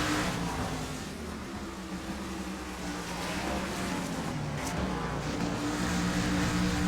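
NASCAR stock cars from the iRacing AI Series race at Lime Rock roar steadily around the track with a continuous, fairly loud engine drone that rises and shifts in pitch as cars pass.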